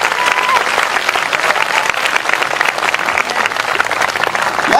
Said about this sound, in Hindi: आइए हम अपने खुदा के लिए एक अच्छी ताली बजाएं।